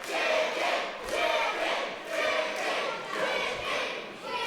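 A pro wrestling crowd at a British wrestling showcase lets out a loud, sustained roar that swells and ebbs in several waves, a dense wash of voices filling the hall.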